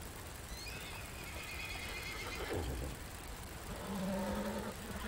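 A horse whinnies outdoors in a forest setting, with a high neigh early on followed later by lower snorting calls, heard over a steady background rumble and faint hoof clops.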